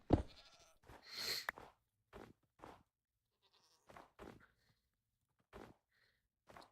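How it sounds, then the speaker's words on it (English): A screaming goat in the game Minecraft Hardcore gives several short, sharp bleating screams spaced through otherwise near-silent moments, fairly quiet and alone. "He screamed! That's hilarious. You're a screaming goat."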